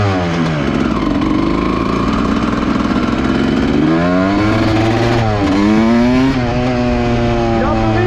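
A Honda CR dirt bike engine runs loud and close while the clutch is being adjusted, holding a rough idle, then revving up and dropping back several times, with someone talking over it.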